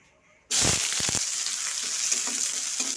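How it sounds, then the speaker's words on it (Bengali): Onions hit hot oil in a kadai for aloo chokha, setting off a sudden loud sizzle after a brief quiet moment, then a steady bright hiss with a few quick stirring clatters. "আমি তেল নিয়ে নিয়েছি কড়াতে পেঁয়াজগুলো দিয়ে দেবো"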